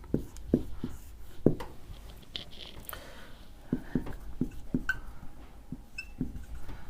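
A pen taps and scratches across paper during a grammar lesson, in light irregular strokes and clicks, close and quiet with no talking.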